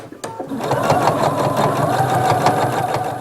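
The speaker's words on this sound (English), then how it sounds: "So stitch around the entire top edge, stitching right over that stitch line." Sewing machine stitching around the top edge of a fabric napkin basket, giving a close, loud, rapid mechanical whirr that starts after a brief click and runs steadily to the end.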